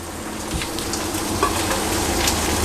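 Vegetables with capsicum and green onion sizzle steadily in a hot pan for prawn pad thai, a constant close crackling fry with faint stirring, no voices.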